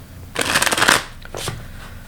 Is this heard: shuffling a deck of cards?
yes